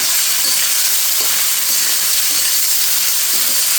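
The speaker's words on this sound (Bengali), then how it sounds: "এখানে আমি খুব সুন্দর করে মাছটা ভেজে নিচ্ছি" Marinated shing fish frying in hot oil in a wok, a loud steady sizzling hiss that crackles continuously throughout, close up, with no voices.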